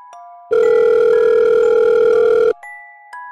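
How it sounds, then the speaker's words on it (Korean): A loud, steady telephone dial tone sounds for about two seconds, with quieter beeping tones before and after it, as a phone call is placed. No one speaks. "다음날 아침 관리자에게 전화를 걸었다"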